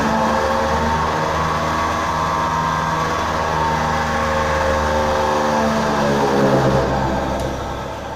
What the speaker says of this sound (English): we have fitted one blower which blow the air and it is going in this duct from this pipe